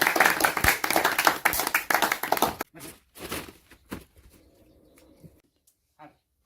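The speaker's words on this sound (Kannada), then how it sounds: "ನಿಮ್ಮೆಲ್ಲರ ಚಪ್ಪಾಳೆ ಮೂಲಕ ಕಾರ್ಯಕ್ರಮವನ್ನು ಶುರು ಮಾಡೋಣ" Lively clapping from an audience at a stage comedy debate show, dense and loud for about two and a half seconds, then breaking into scattered fading claps and a few stray noises.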